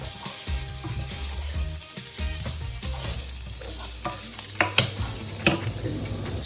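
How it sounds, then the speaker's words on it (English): Chicken pieces and onion frying together in a pan for risotto, a steady sizzle with stirring and scraping clatter, a few sharper knocks of the utensil against the pan toward the end, no talking. "while the chicken and the onions are frying"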